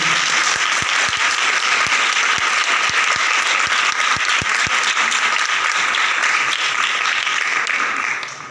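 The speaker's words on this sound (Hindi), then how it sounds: "तालियों के साथ खुशी का इजहार कीजिए।" A church congregation at a Palm Sunday service bursts into sustained, loud applause, a thick continuous clatter of many hands with a few sharper claps standing out, fading briefly at the close.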